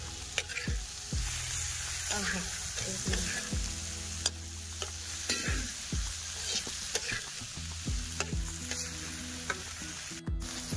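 Dal being stirred and mixed with onion and coriander in a pan, soft steady sizzling beneath repeated scraping strokes of a spoon at an even pace, fairly close and with no speech.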